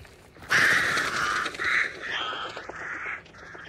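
Crows caw repeatedly in the Hunt: Showdown video game, several harsh loud calls in quick succession, fairly close, with no talking over them.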